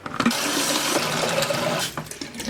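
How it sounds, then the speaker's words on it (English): Tap water runs steadily into a water bottle in a home kitchen or bathroom, a close, continuous rushing pour that lasts a couple of seconds before thinning out. "let's fill up my water bottle"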